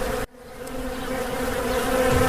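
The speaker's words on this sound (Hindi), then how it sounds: "उस पर सारी मधुमक्खियाँ चिपक गई।" A dense swarm of honeybees drones in a cartoon story, a steady buzzing hum that cuts out for a moment near the start and then swells back, growing slightly louder and closer.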